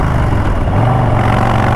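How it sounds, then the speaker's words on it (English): A Harley-Davidson Low Rider ST motorcycle engine runs loud and close, a steady throaty rumble that rises slightly in pitch partway through, with no voices over it. "this front wheel wants to come off the ground when you twist that throttle"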